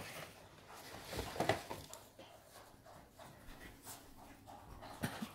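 A pet dog named Shiva pants and whimpers softly close by, a quiet scuffling breath with a few small whines, no one talking over it.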